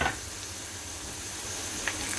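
Round dried red chillies hit hot oil for a tadka, giving a close, steady crackling sizzle throughout with a brief sharper spatter near the end.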